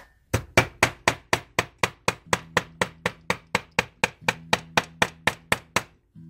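A hammer strikes a wire heart on a hard base to work-harden it, a long run of crisp, evenly spaced taps close up, about four per second, with a faint ring between hits and no speech.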